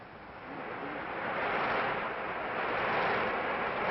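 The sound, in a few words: storm at sea sound effect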